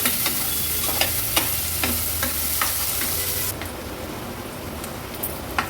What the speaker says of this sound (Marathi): गॅसची फ्लेम लो करते आणि कांदा व्यवस्थित शिजवून घेते